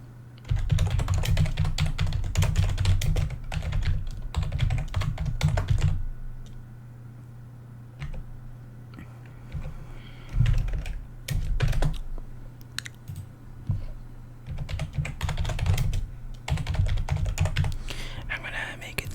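Code being typed on a computer keyboard in bursts of rapid, close clicking keystrokes, pausing briefly around the middle before resuming, with faint whispered speech in places.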